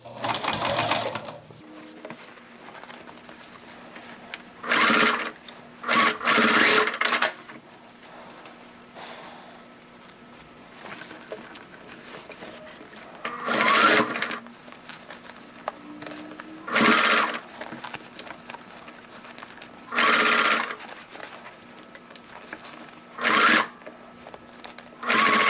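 Sewing machine stitching denim cut from old jeans for a tote bag, running in loud bursts of a few seconds each, separated by quieter pauses with faint room noise, no talking over it.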